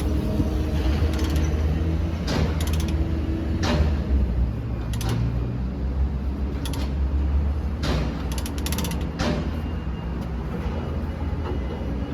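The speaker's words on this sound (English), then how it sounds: "then you use the ratchet to tighten that chain, and everything is then secure" A ratchet binder tightens the chain that secures a JCB machine to a trailer, giving irregular metallic clicks and clanks over a steady low mechanical rumble, close and moderately loud, with no talk.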